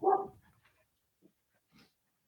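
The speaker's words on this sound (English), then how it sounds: "Doggy." A dog lets out one close bark at the start, followed by a few faint, short whimpering sounds in an otherwise quiet room.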